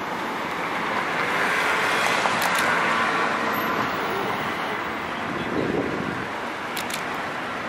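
A car passes on a road, heard as a broad roadside rush that swells and fades over several seconds, steady and fairly loud, with wind-like noise and no talking.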